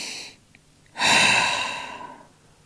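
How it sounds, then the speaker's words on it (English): A single audible breath during yoga child's pose: a short faint sniff, then a long, close, airy exhale that slowly fades, followed by near silence. "And then we're going to take 2 breaths here."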